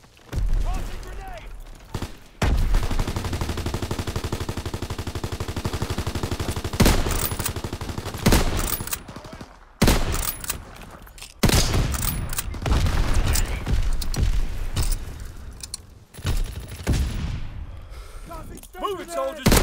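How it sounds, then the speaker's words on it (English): Grenade blast and heavy gunfire in the video game Call of Duty WW2, long loud bursts of automatic fire broken by gaps and booms, with shouted voices over the combat. "Fire in the hole! Tossing grenade!"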